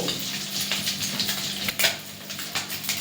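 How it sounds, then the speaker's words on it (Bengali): Continuous crackling sizzle of an egg frying in a pan, with bursts of spattering and occasional stirring. "ডিমটা ভালো করে ভাজা হয়ে গেলে তারপর আমরা পেঁয়াজ ভেজে নেব"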